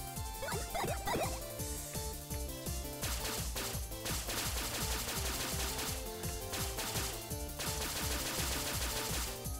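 Rapid gunfire and explosive game effects from a shooter video game, a dense continuous barrage of shots layered over a steady pulsing music track throughout.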